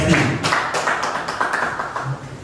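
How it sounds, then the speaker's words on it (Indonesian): Audience at a school teachers' event in Indonesia clapping hands together, a steady patter of many claps close by, continuing throughout without talk. "Tepuk tangan dulu,"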